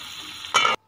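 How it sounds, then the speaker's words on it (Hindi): Water poured into a pan of simmering cauliflower curry: a steady sizzle, then a short loud splashing hiss as the water hits, ending abruptly. "अब इसमें पानी डाल देंगे।"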